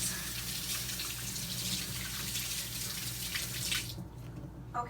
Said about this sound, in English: let me just rinse my